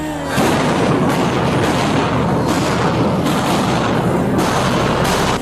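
Police fire rubber bullets at student protesters at UCLA as they reclaim an occupied building: loud, dense crowd noise with repeated heavy booming bursts every second or so.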